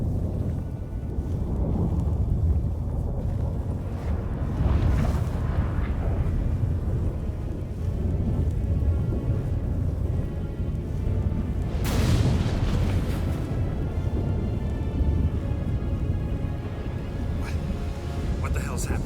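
Stormy weather in the Witcher 3 video game: a steady roar of wind and rumbling low noise fills the whole stretch, with a louder thunderous surge midway, and faint voices under it.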